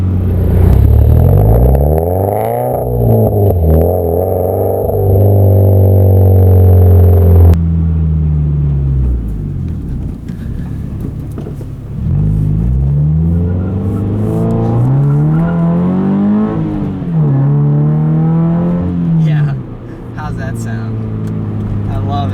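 A Subaru BRZ fitted with an SRT header-back exhaust, recorded from outside, drives past with a loud engine note that climbs and falls through repeated revs and gear changes.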